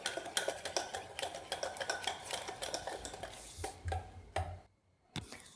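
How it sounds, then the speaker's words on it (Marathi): Semolina cake batter being mixed with milk in a bowl, a spoon clinking and scraping in quick regular strokes up close, stopping briefly near the end before one last tap. "घेतलेलं सगळं दूध टाकून घ्यायचं आणि छान मिक्स करून घ्यायचं"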